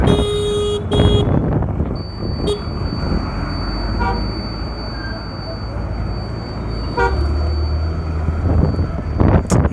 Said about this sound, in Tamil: பின்னாடி வரவங்களுக்கெல்லாம் ஹாரன் மேலே ஹாரன் அடிக்கிறாங்க